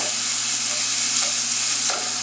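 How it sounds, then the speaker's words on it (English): Sausage browns in a frying pan with a loud, continuous sizzle and crackle of hot fat, steady throughout, with a brief scrape near the end and no voices. "until you actually start cooking or browning your sausage"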